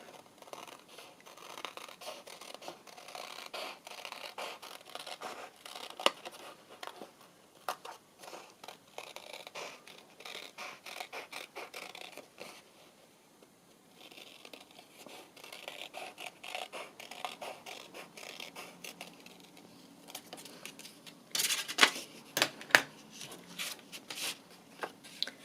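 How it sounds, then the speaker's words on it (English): Scissors snip and scrape through paper for a ring-bound ballet journal, quiet, irregular cuts and rustles heard close up, with a brief burst of sharper scraping near the end. "Get the right scissors for the job."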